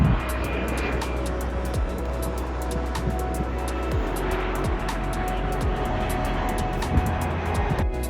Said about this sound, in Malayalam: ഒരു ഫ്ലൈറ്റ് പെട്ടെന്ന് വന്നു. എൻ്റെ നിയറസ്റ്റ് ആയിട്ടാണ് വന്നത്.